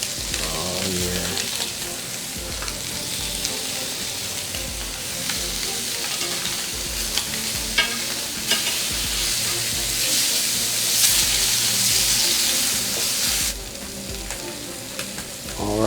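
A Denver cut steak, likened to Wagyu, sears in a hot pan with a loud, continuous close sizzle and bursts of spatter that swell and fade near the end.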